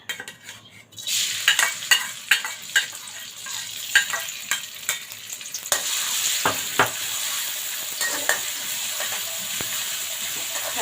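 Pork and bamboo shoots stir-fried in a little oil in a hot wok, with a steady sizzle and repeated scraping strokes of a spatula against the pan, close and continuous throughout.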